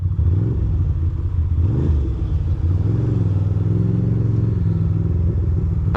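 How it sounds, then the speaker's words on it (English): Loud, steady street traffic rumbles throughout, with engines including a motorcycle revving and cars passing close by on Graham Ave, a continuous low drone without pauses. "I don't know why there's so much traffic here today."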